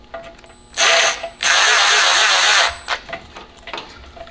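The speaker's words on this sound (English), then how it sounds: "So we're just gonna run it down with the impact gun." An impact gun runs down the transmission cooler mount bolts on a BMW E36 in two loud, close bursts, a short one and then a longer steady whir, with quieter clicks and shop noise between them.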